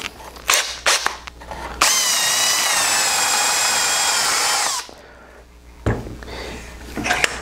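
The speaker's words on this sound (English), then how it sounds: "With a spade bit, you don't ever want to just drill it straight on through." A spade bit in a power drill bores into wood while building a small wooden toy toolbox, giving one loud, steady grinding whine of about three seconds. Short workshop knocks and handling noises come before and after it.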